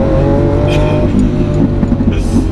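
Lamborghini Aventador S engine pulling hard through gear shifts, a loud, dense, continuous roar with brief changes in pitch at each shift, heard from close by.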